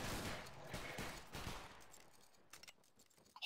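Musket volley from a line of soldiers in the video game Battle Grounds 3, a loud ragged burst of many shots fired together that fades into sparse, fainter crackles and a few scattered late shots.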